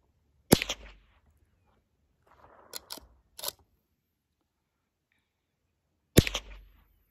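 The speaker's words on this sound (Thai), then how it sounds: "ก็เนี่ยค่ะเสียงจุด22ปืนยาวไรเฟิลจะเป็นแบบนี้ค่ะ" A .22 caliber rifle fires two sharp, loud cracks about six seconds apart, each with a short decaying tail, and quieter mechanical clicks fall in between.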